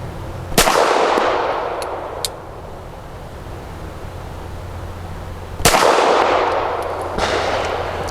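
Two loud, sharp Canik SFx Rival S pistol shots ring out several seconds apart, each followed by a ringing decay and faint outdoor background.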